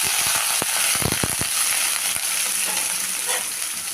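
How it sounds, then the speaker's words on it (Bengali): Chopped onion hits a pan of whole cumin and garam masala, setting off a steady broad sizzle with a burst of sharp clicks and scrapes near the start, continuous and close with no talking. "ফোড়নটা হয়ে গেছে, দিয়ে দিলাম পেঁয়াজ কুচি,"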